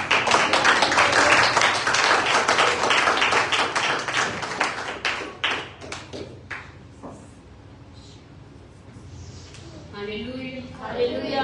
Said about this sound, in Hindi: आइए हम पवित्र आत्मा का और सिस्टर सीमा का स्वागत करेंगे तालियों के साथ